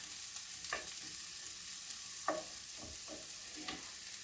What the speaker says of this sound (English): So frying the onions until they're translucent, really, starting to brown.